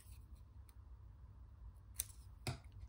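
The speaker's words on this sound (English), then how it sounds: "I'm just going to angle cut these." Scissors angle-cut paper strips for a craft embellishment, giving a couple of quick, faint, close snips over a quiet room.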